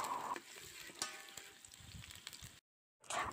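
Shallots and onions sautéing in a pan give off a crackling sizzle with a few stirring clicks, fairly quiet and close, cutting briefly to silence before the frying resumes.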